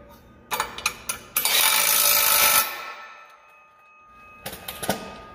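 A power impact gun driving bolts on a welding project: short rattling bursts, then a loud continuous hammering run of about a second, a quiet pause, and another cluster of quick bursts at the end.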